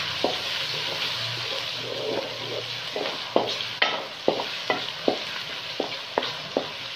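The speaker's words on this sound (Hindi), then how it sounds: "अब हमने इसके अंदर एक छोटे साइज का टमाटर शामिल कर दिया है, इसको कर लेते हैं मिक्स" A small diced tomato frying and being stirred in a pot for daal gosht, a constant sizzle beneath a series of distinct spoon knocks and scrapes that grow more regular toward the end.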